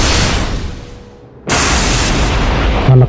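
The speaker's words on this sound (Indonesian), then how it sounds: "menembus 3 lapis batu besar di depan mereka, hingga meledak dengan suara yang menggelegar." Sound effect in an audio drama of a lightning fire arrow exploding after piercing large boulders. A loud, sudden broadband burst cuts in after a brief lull and sustains as a roaring crash, ending in a short sharp pop.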